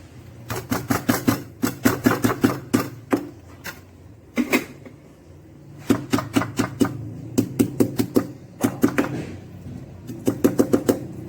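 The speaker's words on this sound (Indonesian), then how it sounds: "sementara sisanya bawang putih yang ada di ulek, nggak diulek dikit sih, digeprek aja" Garlic cloves smashed and pounded in a stone mortar (cobek) while preparing vegan japchae: repeated sharp knocking strikes in quick bursts, close and fairly loud, with short pauses between rounds and no talking.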